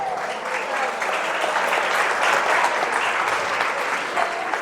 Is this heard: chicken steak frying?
no